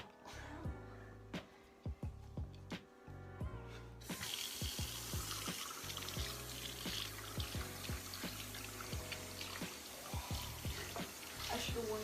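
A tap runs steadily as hair dye is rinsed out, the water growing louder and fuller partway through, with faint voices beneath.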